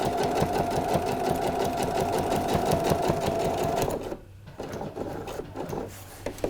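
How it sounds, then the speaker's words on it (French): A sewing machine runs steadily as it topstitches fabric for trousers, its fast, even needle rhythm filling the first four seconds before stopping, followed by a few quieter clicks and handling sounds. "je plante l'aiguille dans le tissu, je relève le pied de biche, je fais pivoter mon tissu et je poursuis cette fois-ci ma surpiqûre"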